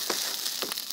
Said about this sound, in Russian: Ну что, чайник у меня закипает.